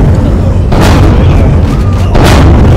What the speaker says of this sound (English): Someone's taking pop shots at me